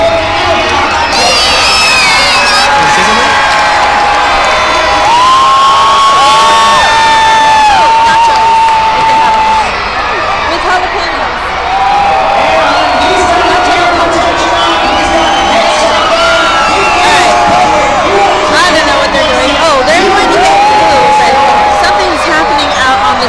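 A huge stadium crowd at a Monster Jam monster truck show roars and cheers loudly and continuously, with whoops and children's shrieks rising above the din.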